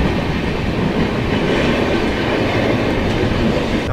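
A Duronto Express passenger train runs on rails in heavy rain, making a steady, loud, close roar with a dense clatter of wheels and no voices.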